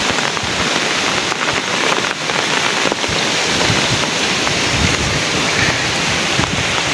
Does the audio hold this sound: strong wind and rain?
yes